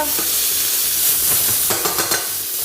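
Pork mince frying loudly in a hot pan as a spatula breaks it up, a close, constant sizzle with a run of scraping, clacking strokes toward the end.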